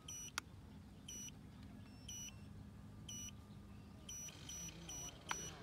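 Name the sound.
beep from Boatman Actor GPS bait boat during compass calibration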